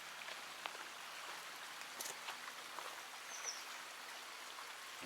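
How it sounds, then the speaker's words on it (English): A stream of water flowing below a hiking trail in a park near Thousand Oaks, California, giving a steady, soft, broadband rush that holds at an even level throughout with no voices. "You can hear that water down there."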